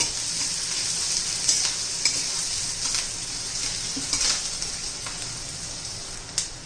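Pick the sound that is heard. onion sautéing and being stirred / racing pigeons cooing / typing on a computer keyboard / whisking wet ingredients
onion sautéing and being stirred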